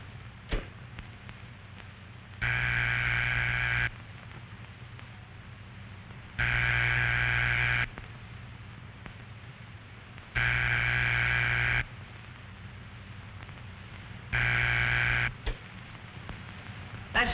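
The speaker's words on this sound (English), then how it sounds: "That's the ringing signal." A 1940-era telephone ringing signal: four evenly spaced buzzing tones, each about one and a half seconds long, separated by longer pauses over faint line hiss.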